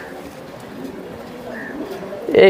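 Soft low coos of racing pigeons at close range, with a louder burst near the end and faint background murmur.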